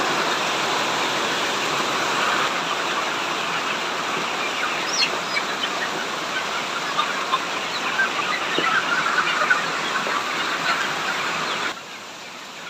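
Rain falls steadily outside at a home chicken-rearing setup, a dense, even hiss with faint scattered taps and a few soft bird or fowl sounds mixed in.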